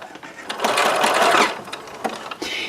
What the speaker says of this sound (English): I'm just going to sew right along here